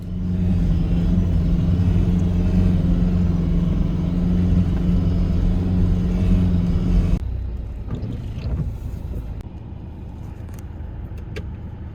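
A 4WD car engine labors up a steep climb on a Victoria High Country track, a loud, steady droning rumble that abruptly drops to a quieter idle-like hum partway through, with faint clunks and rattles.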